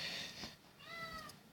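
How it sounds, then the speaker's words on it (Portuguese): A pet cat meows twice indoors, a drawn-out cry and then a second rising meow, fairly faint and slightly distant against a quiet room background. "ela vai ficar miando aí o tempo todo"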